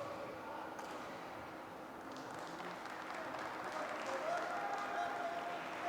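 A crowd applauding at a para badminton match, steady distant clapping in a large hall, faint and continuous, rising slightly near the end, with some speech underneath.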